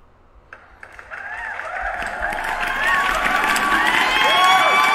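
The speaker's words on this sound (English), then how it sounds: "let me give her a round of applause" Crowd noise swells from near quiet into loud cheering, with whoops, high shouts and scattered clapping layered together and building steadily toward the end.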